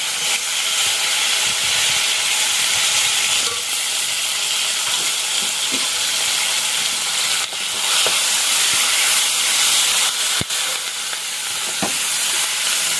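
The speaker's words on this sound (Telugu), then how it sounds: "ఇప్పుడు ఇందులోనే కరివేపాకు వేస్తున్నాను నేను" Curry leaves dropped into hot tempering oil for mango dal, giving a loud, continuous sizzle and hiss with a few sharp crackles and pops, and no talking.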